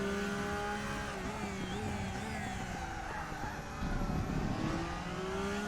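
A Porsche GT3 race car in RaceRoom howls through its revs, the engine note climbing and dropping between shifts with a brief tire scrub, steady and close with no talk.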